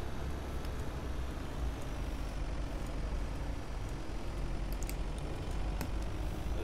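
A Mercedes-Benz C218 CLS-Class car mod in American Truck Simulator, driving through California in the early morning, with a steady, low, dense engine drone and road rumble holding constant throughout, with no voices.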